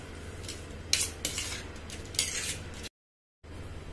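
Salt being stirred into roasted tomato chutney, several close bursts of a spoon scraping and clinking against a metal pan, separated by short pauses and a brief cut to silence.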